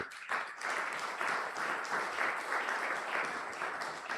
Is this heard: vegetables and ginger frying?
no